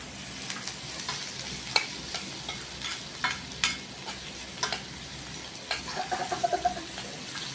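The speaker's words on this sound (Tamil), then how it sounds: "தட்டி வச்ச பூண்டு போட்டலாம்." Crushed garlic dropped into hot oil in a home kitchen pan, giving a steady close sizzle with scattered stirring clatters and scrapes, no voices.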